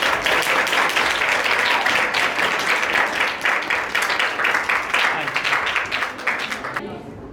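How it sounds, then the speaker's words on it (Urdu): A church congregation claps to welcome the preacher, with dense, sustained applause and some rhythmic clapping that fades toward the end, over voices. "خدا کے خادم کو اور خدا کے کلام کو تالیوں کے ساتھ ویلکم کریں گے"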